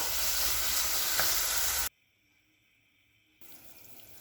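Loud steady sizzling and rushing water as water is poured into a hot pan of sautéed moong dal khichdi ingredients, then a sudden drop to near silence before a softer bubbling resumes.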